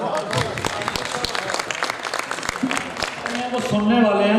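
An audience at a poetry recital applauds with scattered, uneven claps while a voice speaks over them, ending in a louder swell of sound.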